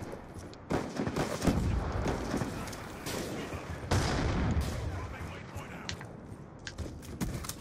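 Rapid video game gunfire crackles in dense bursts at moderate level, with a voice speaking over part of it.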